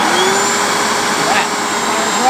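A car vacuum cleaner powered through an Ampeak 2000 watt power inverter whines steadily with a high motor hum and airy rush, loud and close, with a person talking over it.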